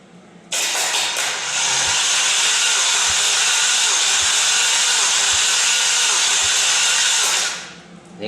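A Hyundai Genesis 2.0T engine cranking on its starter during a compression test on cylinder one, a loud, steady whirring drone with faint regular low thumps, starting abruptly and winding down at the end.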